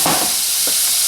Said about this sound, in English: So that's going to be frying.